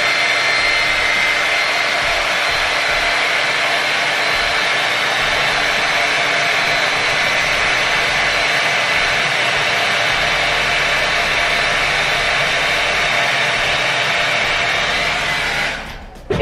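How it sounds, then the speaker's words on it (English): A hair dryer blows hot air steadily onto a lace frontal wig during a bald cap install, a loud continuous rushing whoosh that runs unbroken before cutting off abruptly at the very end. "you want to take your blow dryer"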